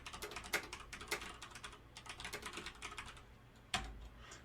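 Code being typed on a computer keyboard, close and quiet, with rapid irregular key clicks in bursts and a few louder strikes, no talking.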